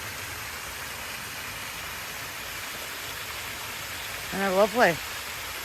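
Routin Linn Waterfall flowing as a steady broadband rushing roar throughout, with a voice briefly speaking over it near the end.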